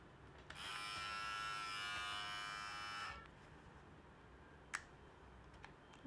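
A Philips MG7715 multi grooming trimmer fitted with its detail trimmer head runs in a high, steady electric buzz for about two and a half seconds, then switches off, followed by a few faint clicks of handling in a quiet room.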